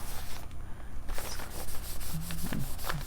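Fingers rub and smooth purple food coloring across a paper journal page, making a continuous, close, loud brushing friction with a few faint squeaks near the end.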